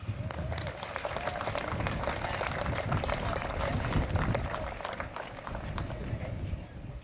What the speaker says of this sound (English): So we want to give them a big round of applause.